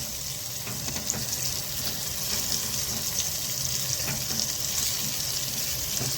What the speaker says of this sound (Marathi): तर हे आपल्याला असे मीडियम गॅसवरती व्यवस्थित खरपूस तळून घ्यायचे आहेत